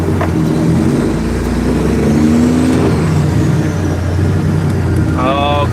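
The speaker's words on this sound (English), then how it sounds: "Oh, garbage truck." A garbage truck engine idles and revs nearby, a loud low drone with rising and falling tones, joined near the end by a high beeping alarm.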